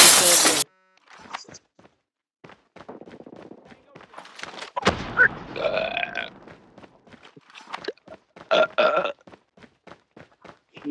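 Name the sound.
burping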